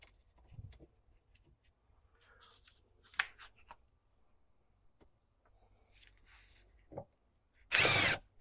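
Power drill driving screws during a hydroboost brake unit rebuild on a 1999 Chevy Suburban 2500, several brief whirring bursts with the loudest one near the end, separated by quiet handling noises.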